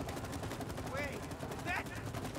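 Rapid gunfire from the co-op video game It Takes Two, a dense run of bursts that stays steady throughout, with brief whistling tones rising over the shots.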